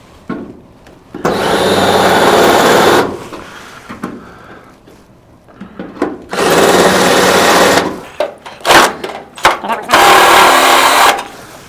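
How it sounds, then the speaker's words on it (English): A power drill spinning a broken-off drill bit in reverse through holes in painted metal in a workshop, cleaning them out; three loud sustained bursts of whirring, a few short blips between them. "We're taking a broken off drill bit now and going through, running it backwards to just clean up some of these holes."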